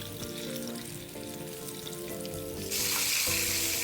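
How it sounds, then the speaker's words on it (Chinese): Cornstarch-coated tofu deep-frying in hot oil gives a steady, loud, crackling sizzle throughout, swelling brighter and fiercer near the end with faint stirring beneath. "一裹上粉，立马下锅油炸，才不会粘黏一起"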